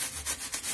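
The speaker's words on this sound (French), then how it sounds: "je coupe avec un couteau" A large bread knife saws roughly through building material while a camper van is being built, giving a close, raspy scraping rub in quick back-and-forth strokes.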